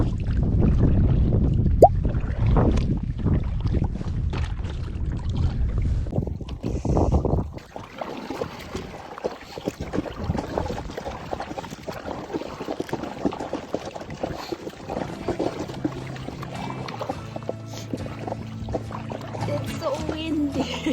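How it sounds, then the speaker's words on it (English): Strong wind gusts roar across a kayak on the water in Antelope Canyon, loud and steady throughout with heavy buffeting and water sounds. Brief speech breaks in over the noise. "It's so windy."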